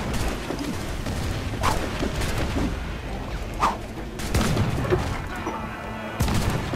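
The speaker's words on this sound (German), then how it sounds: "Eine Salve genau da rein. Feuer!" Heavy booming ship cannon shots fire in a ragged volley in Assassin's Creed 4 Black Flag, several blasts in quick succession over rumbling background noise, with a voice briefly under it.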